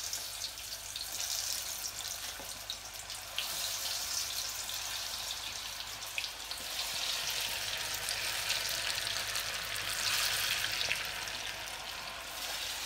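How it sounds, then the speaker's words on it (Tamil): Chicken 65 pieces deep frying in hot oil, a steady bright sizzle and crackle that holds for several seconds at moderate loudness, with no talking. "நம்ம வந்து சிக்கன் போட்டு பொரிக்கலாம்."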